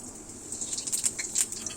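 Mustard seeds crackle and splutter in hot oil in a wok, giving sharp, close pops that come in uneven bursts over a soft frying hiss, with no voices.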